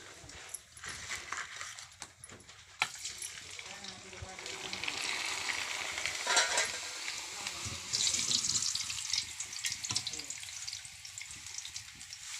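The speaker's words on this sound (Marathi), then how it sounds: "आता आपण कुरडई पापड तळून घेणार आहे." Kurdai papad fry in hot oil in a pan on a wood-fired chulha, giving a steady crackling sizzle that swells and surges in bursts across the whole stretch.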